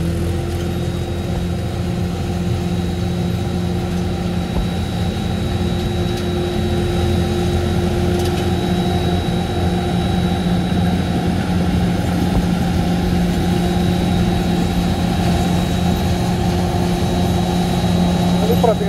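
A John Deere 5100M tractor engine runs steadily nearby during a bean harvest, a constant low rumble with a faint high whine on top and no break.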